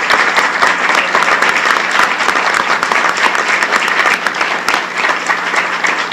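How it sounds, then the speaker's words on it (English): Sustained round of applause from the audience at a school board meeting, dense steady clapping filling the room throughout, fairly loud and without speech. "I want a round of applause for Mrs."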